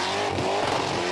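Holden Calais doing a burnout at a Summernats Burnout Masters round in New South Wales, its engine screaming loud and continuous as it bounces rapidly off the rev limiter, with tyre squeal mixed into the roar.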